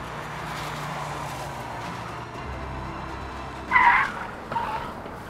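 A car brakes hard to a stop during a tyre braking-distance test on a test track, a rolling rumble followed by a short, sharp tyre squeal and a second fainter screech near the end.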